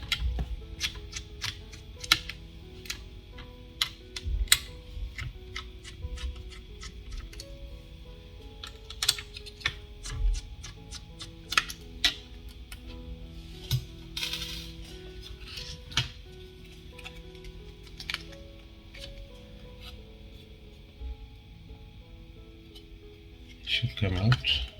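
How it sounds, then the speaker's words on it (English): Heat sinks are pried and unscrewed from a Gigabyte GTX 780 Ti graphics card, giving irregular small metallic clicks, ticks and taps close by over a low background, with someone talking at times. "We need to remove these ones as well on the card"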